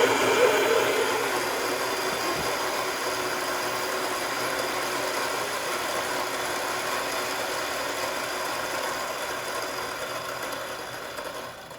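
A Turin DF83V coffee grinder set to its slowest RPM and setting 12.5 grinds medium roast beans, a steady whirring hum close by that gradually eases off, with no speech.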